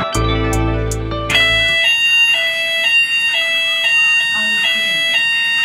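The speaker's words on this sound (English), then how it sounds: "So they're doing tests today on the fire alarms." A building fire alarm under test sounds a loud, steady electronic tone with repeating pulses that carries through a home, after a brief burst of low-pitched sound at the start.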